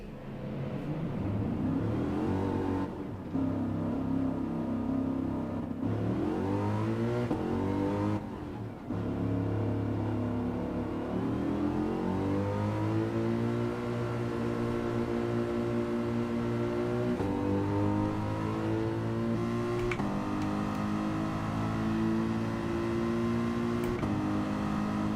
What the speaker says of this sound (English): You just rev them, Bembo.